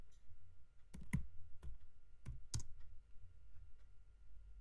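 Keys clicking on a computer keyboard while typing a search into a 3D model warehouse, a few sharp taps scattered irregularly, quiet and close over a low steady hum.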